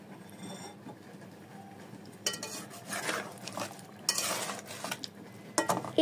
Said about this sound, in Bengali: এবার সব ভালো মতো একসাথে নাড়িয়ে নেব।